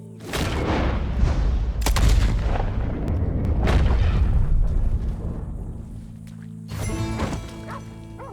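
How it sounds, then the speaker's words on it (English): Heavy gunshots boom in Red Dead Redemption 2, with a couple of loud, reverberant blasts rolling over continuous rumbling action and another sharp report near the end. "He shot the thing!"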